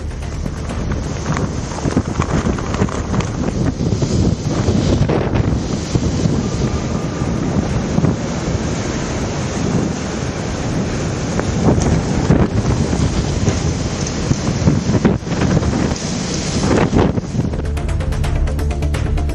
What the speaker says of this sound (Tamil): மணிக்கு 160 கிலோமீட்டர் வேகத்தில் சூறைக்காற்று வீசியதால் பல்வேறு பகுதிகளில் மரங்கள், மின் கம்பங்கள் சாய்ந்தன